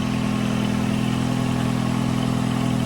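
Steady engine running at idle in a turbocharged car freshly fitted with a rebuilt long block, a constant close drone with a strong low hum and no talk.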